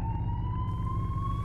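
An ambulance siren wails in a mobile rescue driving game, where the ambulance flies in jet mode. A steady, slowly rising electronic tone sits over a low engine rumble, loud and continuous.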